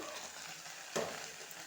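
Okra frying in a pan, a faint steady sizzle with one quick stir scraping through it midway, heard up close and alone.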